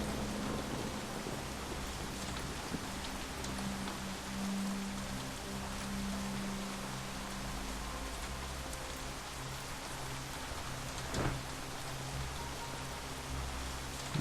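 Steady rain hiss from the video game Shadowrun Hong Kong, a continuous broadband patter with faint low tones and a brief swell near the end, no voices.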